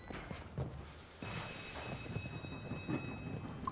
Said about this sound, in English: There's supposed to be a train that appears here.